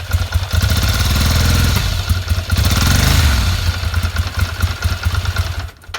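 A Ducati Monster 696 motorcycle engine runs loud and close after a fuel pump reconnection, with a deep uneven rumble, rev swells and a lumpy idle before cutting off at the end.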